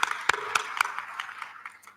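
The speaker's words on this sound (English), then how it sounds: "Let's give them another round of applause." A handful of sharp claps from a conference audience at the ICASA 2023 AIDS conference, bunched near the start of the applause and then thinning out into sparse, softer claps before the sound fades.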